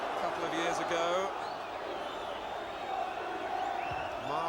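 A football crowd at Manchester United v Arsenal chants in a broad, steady stadium roar heard at a distance, with a commentator talking over it.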